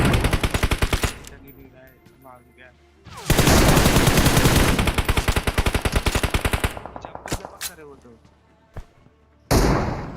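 Bursts of rapid automatic gunfire in BGMI (Battlegrounds Mobile India), loud and close, with short pauses between volleys and a few single shots.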